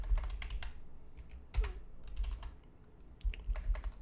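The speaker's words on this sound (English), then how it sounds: "I'm just pre-typing this out for the members in our Discord" Typing on a computer keyboard at a desk, a brisk uneven patter of close key clicks with a few louder keystrokes and short pauses between bursts.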